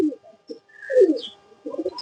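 A pigeon held in the hand gives soft, close cooing calls in short bursts separated by brief pauses, clear against quiet surroundings.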